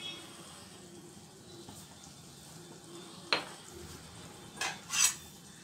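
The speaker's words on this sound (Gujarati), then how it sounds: "મીઠું ઉમેર્યા પછી આપણે આવી રીતે એને દબાવી લેવાનું" Vegetables for pav bhaji, seasoned with salt, being pressed and mashed in a pan, with soft scraping and a few sharp metallic clinks of the utensil against the pan, close and fairly quiet, with no talk.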